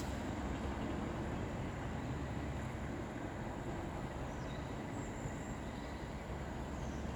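A Pendolino tilting express on the West Coast Main Line at Coventry, heard as a steady broadband rumble of wheels and rails that holds level throughout, fairly distant and unaccompanied by voices.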